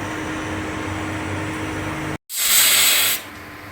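A pressure cooker on a stove cooking sweet pumpkin lets out a loud, steady steam whistle that bursts in suddenly after a brief silence and holds for about a second over a constant background hum.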